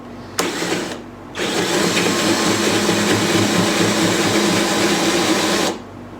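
Drill with a bit boring slowly into the wood of a console, a short whir, a pause, then a long steady close whine before it stops.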